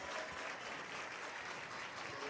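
A crowd applauds at a college softball game between Mississippi State and Tennessee, a brief burst of steady, distant clapping filling the moment.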